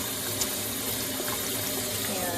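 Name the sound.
tap water filling a measuring cup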